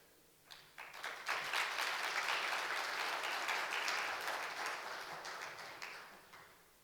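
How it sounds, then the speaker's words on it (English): An audience at a business and finance event bursts into sustained applause, many hands clapping together in a dense, steady wash that swells quickly and then slowly tapers off. "So if I may solicit a round of applause for all of you."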